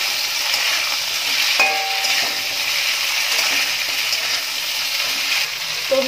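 Beans split down the middle and cauliflower florets frying in a pan for a Bengali mung dal, giving a steady, loud sizzle throughout with occasional soft clinks of stirring and no talk.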